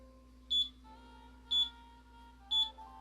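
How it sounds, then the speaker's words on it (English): Timer beeping three times at even one-second intervals, short high-pitched beeps over a quiet background hum. "And that is our timer."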